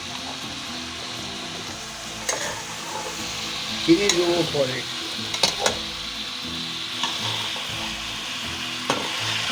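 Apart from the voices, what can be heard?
cabbage frying with salt in a pan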